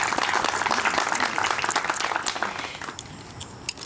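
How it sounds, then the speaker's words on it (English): A community crowd at a house opening and ribbon cutting applauds Miss Gloria for her stewardship and activism, a full burst of clapping that thins out over the last second into a few scattered claps. "give her a round of applause"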